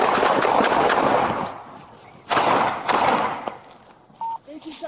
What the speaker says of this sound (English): 1817, shots fired.